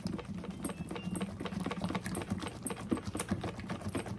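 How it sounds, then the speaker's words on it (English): A whisk beats a chocolate eclair dessert mixture in a bowl, making quick, uneven clicking and tapping strokes that run continuously at a moderate level. "we're going to just whisk this together for about 3 to"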